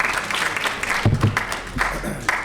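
Audience at a council meeting applauding, a dense crowd clap at moderate distance holding steady, with a brief thump and some lower murmuring partway through.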